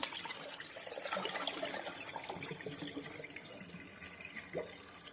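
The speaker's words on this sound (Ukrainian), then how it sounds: "Цю водичку ми зараз відцідимо" Water soaked for 15 to 20 minutes is drained off broccoli, a faint trickling and splashing of water running out close by.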